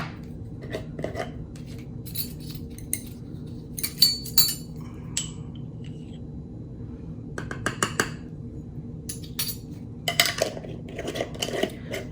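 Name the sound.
grinding brown and red oxide pigments for foundation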